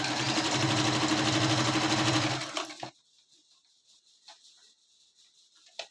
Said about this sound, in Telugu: ఇప్పుడు నెక్స్ట్ ఈ సెంటర్ స్టిచ్ కుట్టాం కదండి